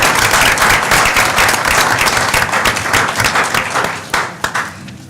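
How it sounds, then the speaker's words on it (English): Audience applause at a school board of education meeting: a dense, steady burst of many hands clapping throughout, loud and close, tapering into a few scattered claps near the end. "One more round of applause."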